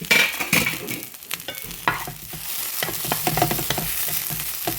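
Okra frying in a pan while a spatula stirs it, a steady sizzle with repeated scraping strokes and light clatters, close and fairly loud, no talking.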